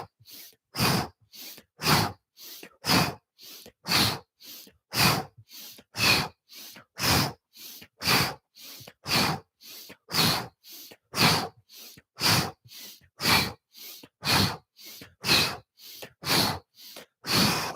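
Deep rhythmic breathing during a vinyasa yoga twist, about twenty-four strong breaths at an even pace roughly every second, close and loud with brief silences between, no talking.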